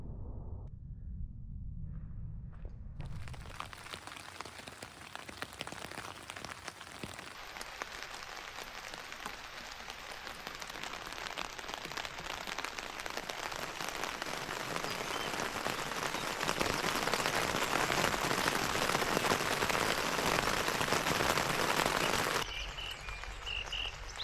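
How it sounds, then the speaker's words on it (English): Heavy rain drumming on an Atepa camping tent at night: a dense, steady hiss and patter that swells louder over time, close and continuous, with no talking. "Rain started at about, what were it, 2:15, between 2:15 and 2:30 this morning, and it just woke me up"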